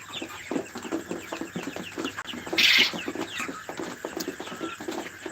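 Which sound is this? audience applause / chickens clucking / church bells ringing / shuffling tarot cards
chickens clucking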